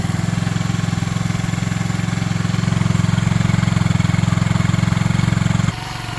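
A Suzuki Djebel 200 motorcycle engine, warmed up, idles close by with a steady, rapid low chugging that dips slightly in level near the end.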